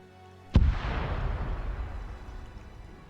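A single sharp, loud explosion in a WW2 shooter game set around British commandos and the French Resistance, bursting near and then rolling off into a long rumbling decay.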